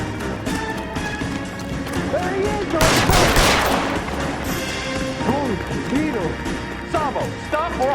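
Gunshots in the video game L.A. Noire, a loud cluster of shots and crashes near the middle amid shouting voices and game music.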